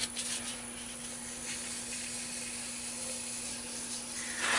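Starbond CA glue accelerator sprayed as a finish, a steady close hiss of aerosol mist lasting throughout, with a brief stronger burst at the end and no talk.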